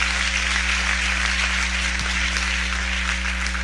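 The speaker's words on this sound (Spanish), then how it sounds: "Dele fuerte ese aplauso a Cristo." A church congregation at a Spanish-language evangelical service claps loudly and steadily, a dense burst of applause lasting a few seconds over a constant low electrical hum.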